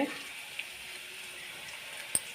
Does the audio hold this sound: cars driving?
no